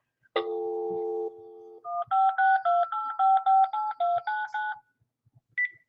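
A test call placed from a Windows XP Home Edition setup running in VirtualBox: a clean electronic tone opens, then a rapid run of about a dozen crisp DTMF keypad beeps, ending with one lone beep, no voices.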